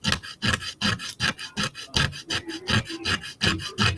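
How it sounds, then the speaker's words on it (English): Coarse sandpaper rubbed back and forth over a model in steady, rhythmic rasping strokes, close and loud, with no talking. "I honestly could use a finer grit of sandpaper, but this is all I have to work with."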